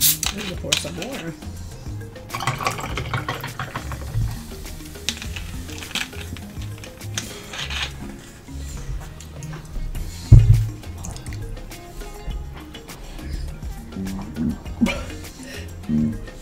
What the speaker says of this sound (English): I'm gonna pour some more.